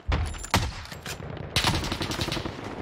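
Gunfire in Call of Duty Warzone during a Gulag fight, loud close bursts of rapid shots with sharp cracks near the start and middle, dense repeated firing throughout.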